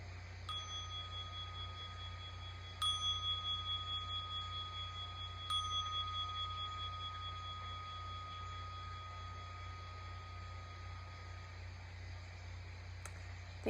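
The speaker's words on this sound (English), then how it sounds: "listening for the sound of the bell." A meditation bell rings at the end of a meditation, three clear metallic strikes spaced a few seconds apart, each leaving a long, pure, slowly fading tone over a quiet steady hum.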